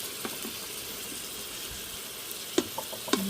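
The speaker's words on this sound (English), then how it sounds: "have to stir this every now and then so that way it cooks on all of its sides" Instant Pot spaghetti with meat sauce cooking, a faint steady sizzle with a few soft clinks and scrapes of stirring near the end, close and quiet with no talk.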